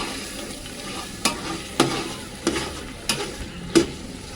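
Mutton biryani masala for Amboor-style mutton biryani fries in oil over low heat, a steady soft sizzle broken by about five sharp scraping stirs, close and alone.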